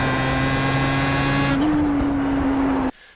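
Steady engine drone of a Pro Mazda race car lapping Okayama in a racing game, held on a constant pitch with a brief upshift partway, loud and continuous until it cuts off near the end.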